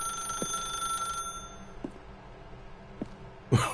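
A telephone rings in The Stanley Parable game, with a sustained ringing tone over the first second or so, then quiet with a few soft taps and a louder clunk near the end.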